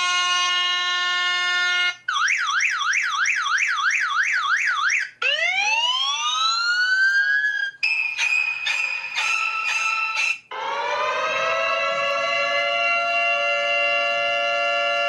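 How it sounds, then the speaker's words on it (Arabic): A loud electronic fire engine siren cycles through several alarm tones in turn: steady beeps, a fast wailing warble, rising sweeps and a long climbing wail. "هذا هو الصوت الذي نستخدمه في فاير انجين"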